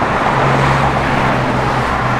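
A 1996 Pontiac Formula rolls along a road, its engine a steady low drone under broadband tire and road noise, close and continuous without any voices.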